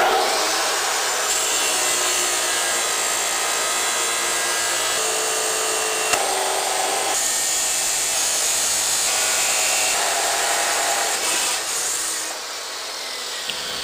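A saw makes a square cut through clamped 2-inch inner-diameter steel pipe with quarter-inch walls, a continuous harsh grinding rasp that holds steady for the whole stretch, close and loud, then eases slightly near the end with no talking.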